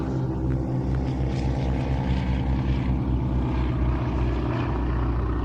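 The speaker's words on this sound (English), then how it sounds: "watch as the aircraft pitch up" Propeller aircraft carrying wing walkers pitching up at an evening air show, a loud continuous engine drone with a pulsing throb, heard alone.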